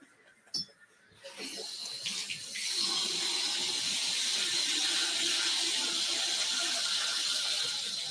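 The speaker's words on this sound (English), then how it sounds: "Let me do the bath water" Hot water gushes from a tap into a bathtub, starting after a few clicks and handle turns and then settling into a loud, steady splashing flow.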